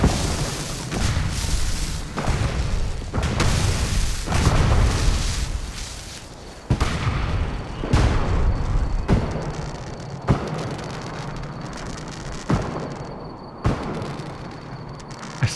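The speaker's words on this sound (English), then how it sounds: "Oh, and fireworks." Fireworks burst in the Fallout 4 video game as a rapid series of loud booms and crackling blasts, about a dozen heavy thuds spaced irregularly over the stretch with no talk.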